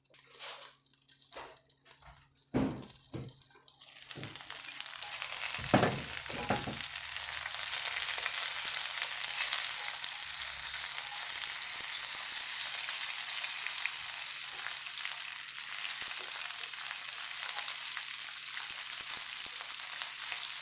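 Cow parsnip blossoms cooking in a pan, opening with a few sharp clatters and taps, then a steady close sizzle that holds strong to the end.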